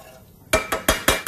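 A spoon stirs sour cream sauce in a frying pan with four loud, evenly spaced scraping strokes after a brief quiet moment, close and clear over a faint background.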